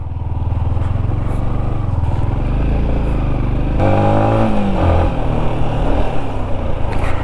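An off-road vehicle grinds along a dirt trail in Kolar, its engine a loud, close, steady drone that shifts pitch and revs harder midway, with faint clatter from the rough ground.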